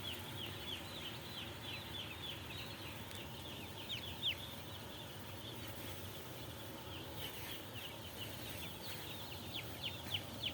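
Broiler chickens in a closed-house poultry barn, a dense chorus of faint overlapping chirps and clucks over a constant low rumble from ventilation fans, with no speech.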